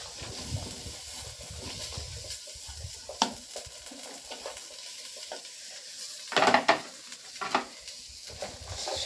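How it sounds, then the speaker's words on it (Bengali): Bori lentil dumplings, peas and capsicum sautéing with spices in a pan, with a continuous sizzle broken by several scraping stirs and a cluster of louder spatula knocks and clatter. "বড়ি, মটরশুঁটি, ক্যাপসিকাম সব একসঙ্গে কিন্তু মশলার সঙ্গে আমি কষিয়ে নিচ্ছি।"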